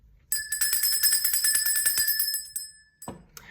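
A small bell rings with a bright, rapid, rattling trill that holds steady for about two seconds before fading away, followed by a soft knock and faint handling noise.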